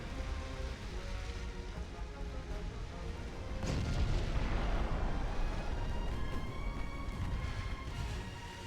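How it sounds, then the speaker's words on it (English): Battleship naval artillery in the Ultimate Admiral: Dreadnoughts naval warfare game rumbles steadily, with a heavier boom swelling midway into a sustained roar that slowly decays, no voices present. "Secondary guns, keep up fire on the Ramillies"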